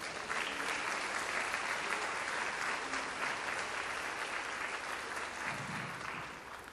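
A church congregation gives a sustained round of applause during a sermon, dense and even clapping from a large crowd that continues throughout at a fairly distant, moderate level.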